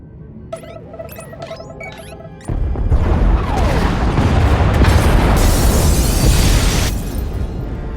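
A loud explosion rips through an escape pod bay in Star Wars: The Old Republic, opening with a sudden blast followed by a sustained roaring, crashing rumble that fades slightly near the end.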